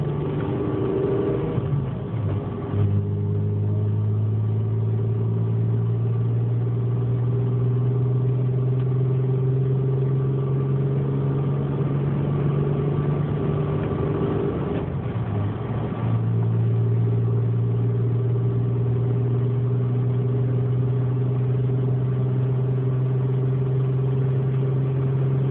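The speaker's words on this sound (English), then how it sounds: "I'll just drive it a little bit just so you can kind of see everything work, and then let it warm up a little bit" A stage 3 tuned Audi S4 engine runs steadily at idle while warming up, a deep continuous drone close by with slight shifts in pitch and one brief blip partway through.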